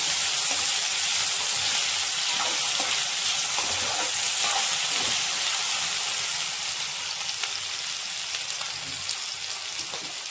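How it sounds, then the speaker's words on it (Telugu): Food deep frying in hot oil, a steady dense sizzle throughout with scattered crackles and stirring clinks, loud and close with no talk, tapering slightly toward the end. "ఇది మంచిగా డీప్ ఫ్రై కావాలి"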